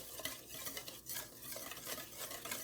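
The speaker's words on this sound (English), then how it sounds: "Whisk that together, like that there." Egg and sugar whisked together in a pot for cinnamon roll dough, a quick repeated swishing and light metal scraping in a steady close rhythm, with no voices.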